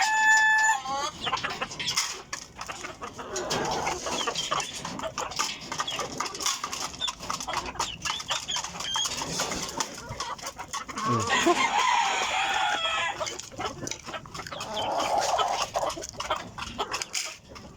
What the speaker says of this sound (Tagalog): Kaya mabilis dumami yung mga manok ko dito mga lods kasi yung mga babae nakalpas lang.